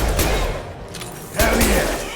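Gunfire in the sci-fi shooter Mass Effect 2, two loud bursts of shots separated by a short lull, up close and punchy.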